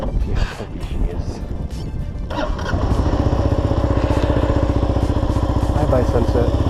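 Kawasaki KLR650 single-cylinder motorcycle revving and pulling away at close range, a steady throbbing engine note building after a few seconds, with a voice talking over it early on.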